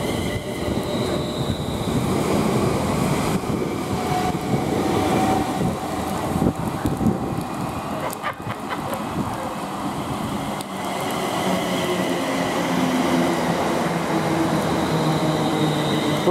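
London Northwestern Railway electric multiple unit pulling out of Milton Keynes Central bound for London Euston, a steady loud rumble of wheels and traction with faint squeals, continuous throughout with a brief dip midway.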